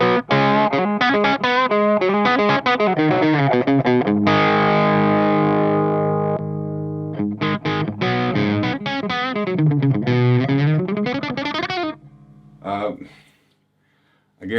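An electric guitar runs through the tube driver with EQ of an ENGL Special Edition Founders Edition EL34 amp, playing loud, distorted riffs and ringing sustained chords up close, ending in a few short stabs before silence.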